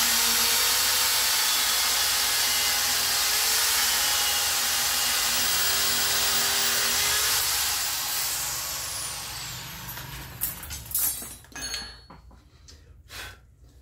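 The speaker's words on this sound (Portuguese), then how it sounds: "Furar aqui, eu tenho que aumentar aqui a velocidade." A power drill runs loud and steady as it bores into metal while a stirrup-bending jig is made, then winds down and stops, followed by several sharp clanks and knocks.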